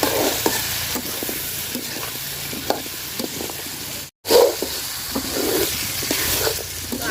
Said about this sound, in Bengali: আলুগুলা দেখেন আমি সুন্দর করে ভাজা ভাজা করে নিচ্ছি